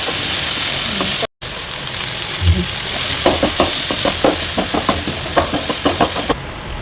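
Tomatoes sautéing with ginger garlic paste in a pan for prawn gravy, giving a steady sizzle and frying hiss with repeated stirring scrapes and taps partway through, close and fairly loud, with no talk.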